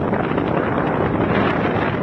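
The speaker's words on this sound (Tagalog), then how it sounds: "Rinig na rinig ang pagugupit ng malakas na hangin." Strong typhoon wind roars steadily across Batanes, a dense, unbroken rushing howl that stays loud and close throughout with no voices.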